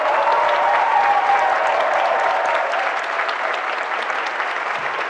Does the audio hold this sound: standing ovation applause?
yes